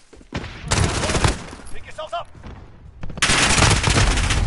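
Gunfire from the Call of Duty Modern Warfare video game, loud bursts of rapid automatic shots in two dense stretches separated by a short lull with a brief tonal effect.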